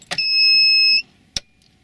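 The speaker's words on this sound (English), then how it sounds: "when I turn the key, it should beep and flash and then go silent" A low coolant alarm on a Mazda Bongo runs its self-test as the key is turned: an electronic beep sounds steadily for about a second, bracketed by short clicks, with a quiet background.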